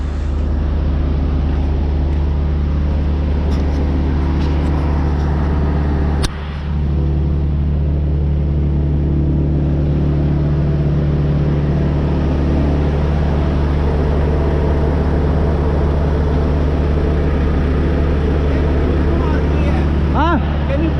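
A Freightliner truck engine rumbles at a loading dock in a loud, steady, close idle with a deep low throb. There is one brief dip partway through, and a faint voice is heard under the engine noise.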